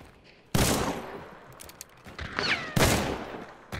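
Loud gunshots ring out in a first-person shooter video game, two sharp, close bursts with rattling echoes and scattered fainter shots between them.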